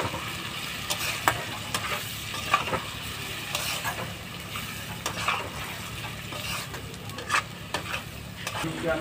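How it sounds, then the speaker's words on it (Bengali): Spice paste with coriander powder being stir-fried for a fish chachchari, with repeated spatula scrapes and taps against the pan over a soft, steady sizzle, close and fairly quiet, no voices. "এ দিয়ে মশলাটাকে ভালো করে কষে নিয়ে নেব"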